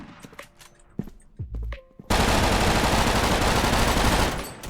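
Gunfire in the free PvP shooter game Frontline Inferno: a few scattered faint shots and thumps, then a long, loud, continuous burst of automatic fire lasting over two seconds before it cuts off.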